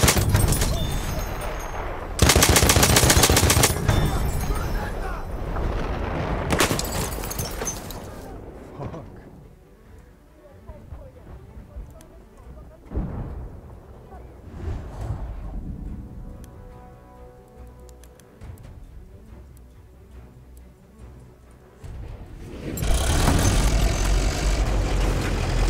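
Loud bursts of heavy cannon fire and explosions in Battlefield 1 on Monte Grappa, then a rumbling stretch with aircraft engine drone and scattered shots, ending in another loud blast.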